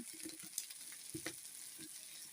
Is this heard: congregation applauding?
no